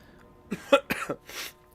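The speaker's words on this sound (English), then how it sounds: "I've got a little bit of a cold, so apologies for the coughing." A person with a cold gives a few short, rough coughs in quick succession, close and fairly loud, with a brief throat-clearing quality and no talking.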